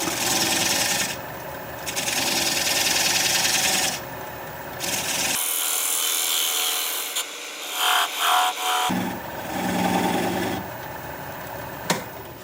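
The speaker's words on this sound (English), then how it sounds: "Need to make a little cleaning cut down here at the bottom of it." A lathe gouge takes a light cleaning cut at the base of a spinning sassafras piece, giving a steady close rasping scrape that drops out briefly midway and then resumes.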